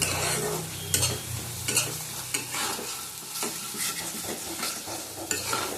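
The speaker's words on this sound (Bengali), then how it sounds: "আবার ভালো করে কষিয়ে নেব।" Spices with a small spoonful of ground cumin fry and sizzle in a pan while a spoon stirs and scrapes steadily, with sharp scraping strokes recurring every second or so, close and fairly loud, with no talking.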